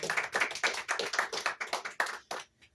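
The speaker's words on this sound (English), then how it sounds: "Let's give Alan another round of applause." Seminar audience giving a speaker a round of applause, a brief burst of clapping from a modest crowd, fairly close and even, tapering off and fading out near the end.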